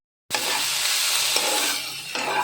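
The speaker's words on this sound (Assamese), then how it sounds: "এটা কেৰাহীত অলপমান ৰিফাইন তেল লৈ মই ইয়াতে কাটি লোৱা পিঁয়াজখিনি দি দিছোঁ। এইখিনি এতিয়া ভাজি ল'ম ধুনীয়াকৈ" Chopped onions hit hot refined oil in a wok and sizzle loudly from a sudden start, with steady frying and stirring scrapes close by.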